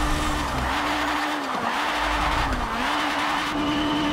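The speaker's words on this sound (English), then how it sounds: "listen to the engine" A powerful BMW Isetta car engine, rated 700 horsepower, roars continuously at high revs, its pitch rising and dipping as it accelerates, with tire noise and no talking.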